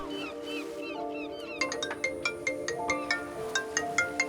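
A mobile phone ringtone plays nearby in a quiet room, a soft melodic phrase followed by a brighter repeating pattern of chiming tones, moderately loud with no talk.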